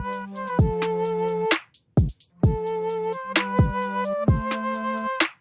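A trap beat built from the 808 Flex drum kit, with crisp hi-hats, snappy hits and deep booming 808 kicks under a looping flute preset melody, played in a steady repeating pattern with no talking.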